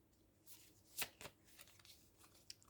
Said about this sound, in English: So I'm gonna select a few cards from my decks as well.